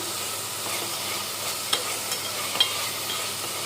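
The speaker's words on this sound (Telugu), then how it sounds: "ఇది కూడా పచ్చివాసన పోయే వరకు వేయించుకోవాలి" Cumin and garlic paste frying in a pan for a raw prawn and country egg curry, a steady soft sizzle with a couple of brief stirring clicks, close and alone without talk.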